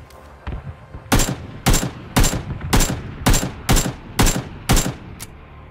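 Gunfire in the PUBG video game on an icy map rings out as a regular series of about nine loud, sharp shots at roughly half-second spacing, each with a brief decaying tail.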